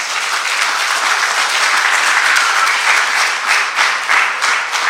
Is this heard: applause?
yes